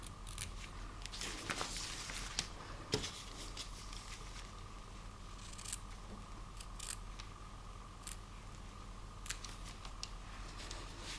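Scissors snip the corners of a handmade paper envelope cover for a Christmas journal, a few soft crisp cuts over a steady quiet room hiss, with light paper handling between snips.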